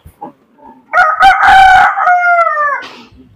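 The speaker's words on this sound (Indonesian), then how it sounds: "Ada ayam guys." A rooster crows loudly and close in a rural village yard, one long drawn-out call with a few short clucks and rustles before and after.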